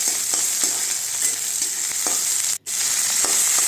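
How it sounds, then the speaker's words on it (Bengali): Onions and tomato frying in a pan for sambar, a steady close sizzle with faint stirring clicks, briefly cut by a short gap. "পেঁয়াজটা মোটামুটি গোল্ডেন ব্রাউন মতো ভাজা হয়ে গেলে এর মধ্যে দিতে হবে টমেটো"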